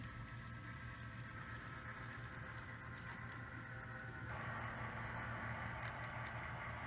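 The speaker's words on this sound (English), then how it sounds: "And here comes our train down into Arlington Yard." Model railroad train rolling into a yard on a layout, a steady low mechanical hum with faint rail clatter throughout, growing slightly louder partway through, with no voices.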